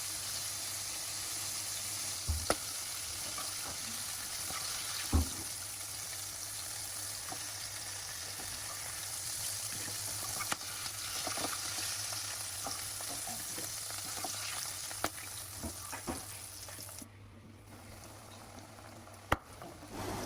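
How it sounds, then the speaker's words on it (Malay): Squid pieces fry in hot oil, giving a continuous close sizzle and crackle with a few sharper pops and spatters. "Goreng kesemua sotong sehingga habis."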